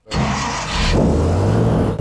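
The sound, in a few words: boat engine starting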